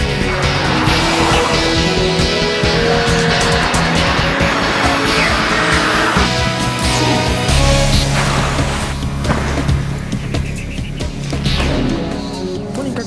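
A Subaru WRX STI driven hard at high speed by Tommi Mäkinen, a loud continuous engine roar rising and falling through gear changes with tire squeal and rushing road noise, no voices.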